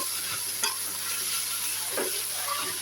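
Onions sauté in a pan for egg podimas, making a steady sizzle with occasional stirring scrapes and clinks, close and fairly loud, no voices.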